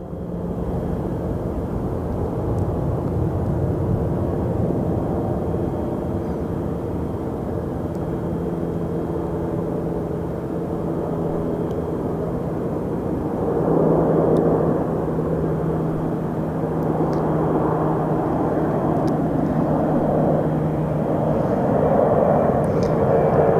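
A SkyWest regional jet hums at an airport, a loud, continuous droning engine roar with steady tonal bands lasting the whole span and swelling slightly midway. No voices.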